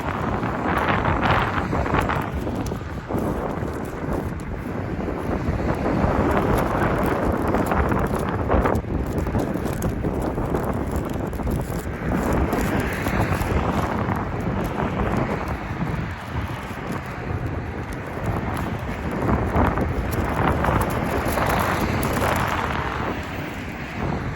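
Strong gusts buffet a microphone outdoors, producing a continuous loud roaring rumble that swells and dips without pause for the whole stretch, with no voice heard.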